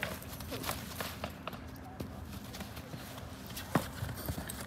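Hooves of a horse loping in an arena during a riding lesson, a soft, rhythmic clip-clop at moderate distance with a few sharper hoof strikes and faint ambient noise.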